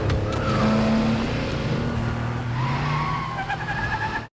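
A car in a city pursuit skids and swerves through traffic, loud tyre squeals and engine roar rising and falling over a few seconds before cutting off abruptly.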